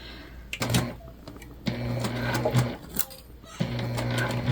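A sewing machine back stitching through a fabric bag, running in three steady, close bursts of fast mechanical whirring separated by short pauses.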